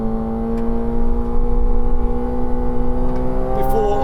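McLaren 750S 2024 V8 supercar with a 552 kW engine accelerating on a racetrack, a steady loud engine drone with a smoothly rising pitch as the throttle is fed through a corner.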